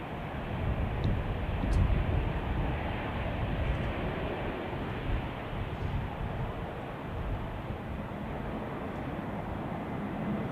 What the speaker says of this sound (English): Okay, there's a landing. Let's take a look at that one as well. Oh, I didn't see what it is. Looks like an A320 Neo though.